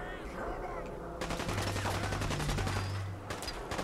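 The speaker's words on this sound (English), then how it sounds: "Where are they shooting from?" Rapid bursts of gunfire ring out in a battle in the video game Fallout 4, loud, close and repeated for several seconds, backed by a low, steady rumble.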